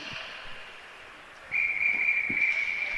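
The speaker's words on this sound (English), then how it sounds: "And we got a whistle." A referee's whistle at a youth novice ice hockey game sounds one steady, sustained shrill blast partway through, moderately loud over arena background noise.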